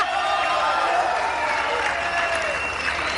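Studio audience on a Hindi courtroom-style TV show claps for a woman named Archana, even sustained applause filling the short stretch with a murmur of voices beneath.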